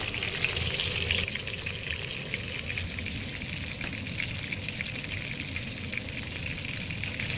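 Chicken pieces and onions fry in a pan with a steady, dense sizzle that stays loud and continuous throughout, close up with no voices.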